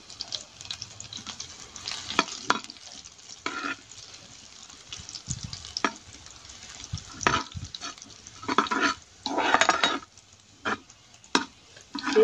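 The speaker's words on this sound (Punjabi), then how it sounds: "ਲਸਣ ਨੂੰ ਆਪਾਂ ਬਿਲਕੁਲ ਚੰਗੀ ਤਰੀਕੇ ਨਾਲ ਭੁੰਨਾਂਗੇ" Finely chopped garlic fries in hot oil with cumin, giving a soft sizzle broken by repeated louder bursts of stirring and scraping, close and irregular, with no talk.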